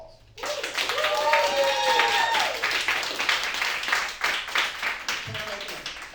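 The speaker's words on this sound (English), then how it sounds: "Give them one more applause." Comedy club audience applauding steadily, a dense wash of clapping from a crowd with some voices and whoops mixed in, sustained throughout.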